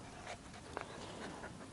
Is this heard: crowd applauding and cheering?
no